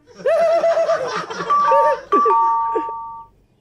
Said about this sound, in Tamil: காலிங் பெல் அடிக்குதுல போய் யாருன்னு பாரு